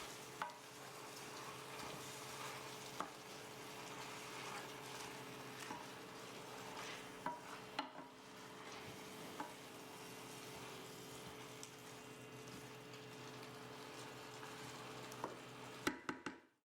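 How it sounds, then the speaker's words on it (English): Spinach stirred in a hot pan to wilt, with a steady close sizzle of frying running throughout and occasional light knocks from the utensil against the pan; nobody speaks. "Stir to wilt the spinach and let it cook for 1 minute."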